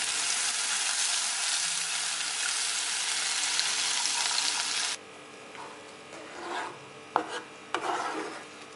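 Chili and coriander powder paste hitting a hot pan for mulakushyam, a steady bright sizzle for about five seconds, then quieter bubbling and a few clinks of stirring.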